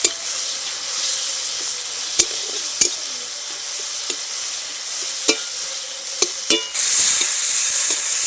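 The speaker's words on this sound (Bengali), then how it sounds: "খুব ভালো করে আদা রসুন বাটাটাও আমি নেড়ে নেবো" Ginger-garlic paste frying in a pan gives a constant bright hiss, broken by sharp scraping clicks of a spoon stirring it every second or so, and the sizzle swells louder near the end.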